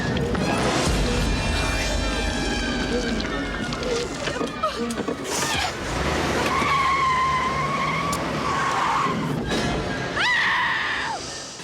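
A car braking hard while reversing in a film scene from the 1996 horror movie Scream, with loud tire skidding and squealing that carries across most of the clip amid screams and dramatic mixed sound.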